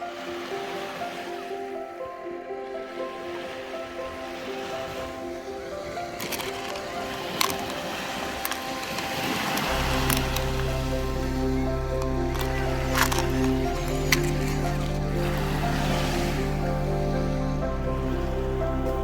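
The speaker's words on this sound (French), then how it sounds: "nous profitons enfin du bruit des vagues, de la nature et du calme qui nous entoure" Ocean waves wash and break steadily on a beach at Le Lavandou, with a deep rumbling surf growing louder partway through and occasional sharp clicks.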